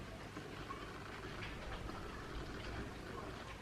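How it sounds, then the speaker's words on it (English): Soft, steady rain falls outside a window, a faint continuous patter with a gentle hiss and no clear individual drops. "Raining."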